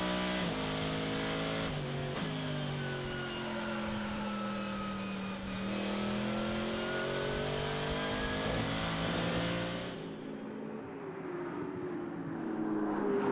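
Onboard engine note from a Mercedes-Benz GT Masters race car at the Red Bull Ring during a race, a loud steady roar rising and falling in pitch through gear changes and revs for the whole stretch, with no talk.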